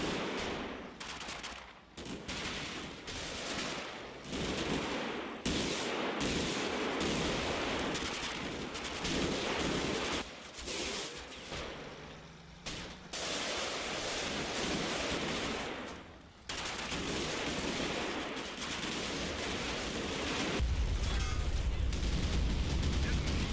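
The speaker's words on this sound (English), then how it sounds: "1st and 3rd Platoon are both encroaching on Objective June under heavy machine gun cover." Heavy machine gun cover fire in the wargame Combat Mission Final Blitzkrieg, with dense, continuous bursts of rattling shots and distant explosions filling the whole stretch, loud and layered without pause.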